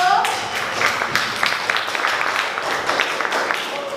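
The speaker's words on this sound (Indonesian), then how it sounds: "Tepuk tangan dulu." Classroom audience applauding after a student group's presentation, a steady wash of many hands clapping close by for several seconds with some voices mixed in.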